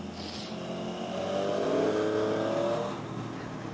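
Three motorcycles, one of about 165 horsepower, accelerating on a mountain pass road, engines rising to a loud, close roar that swells in the middle and then eases off, heard over wind.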